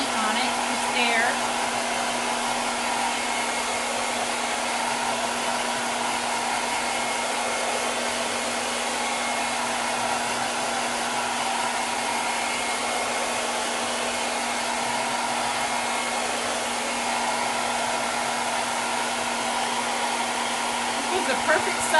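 Hair dryer on its cool setting blowing steadily onto a 12 by 18 canvas, a loud, unbroken whooshing hum with a constant tone that holds at the same level throughout.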